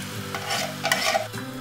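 Coconut milk being stirred into a pot of Tom Kha Kai soup with chicken breast pieces and oyster mushrooms, giving a short burst of sloshing, scraping stir noise close by, with no one speaking.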